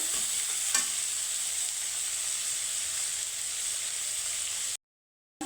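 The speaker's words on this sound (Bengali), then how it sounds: "আদা লঙ্কা কুচি একটু হালকা করে ভেজে নেব" Chopped ginger and green chilli fry in a pan with a steady, close hiss that runs evenly for several seconds before cutting off abruptly near the end, with no talking.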